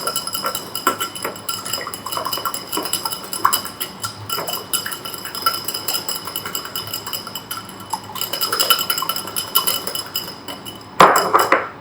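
Egg and milk whisked together for an egg wash, with busy metallic clinks and scrapes of a utensil against a bowl continuing throughout and a louder clatter near the end.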